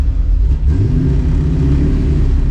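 An old Ford Mustang engine, running hot at around 230 degrees with an air bubble in the cooling system, revs up loudly nearby with a deep rumbling mid-range roar that holds steady.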